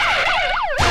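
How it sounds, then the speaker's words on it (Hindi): A fire brigade siren wails loudly and close, its pitch sweeping up and down in repeated cycles before a sudden burst of noise at the end. "ओए मारिया, फायर ब्रिगेड बुलाओ"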